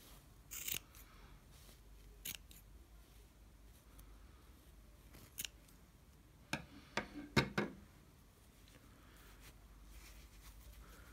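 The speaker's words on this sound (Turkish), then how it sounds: "Diğer tarafını da aynı şekilde bütün ipleri bakın katlı olanları kesiyorum." Scissors snip through folded yarn threads while a pompom is trimmed, giving sharp, isolated cuts at irregular intervals with a quick cluster near the end, close and quiet otherwise.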